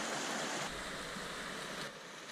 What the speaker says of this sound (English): There's another creek right here.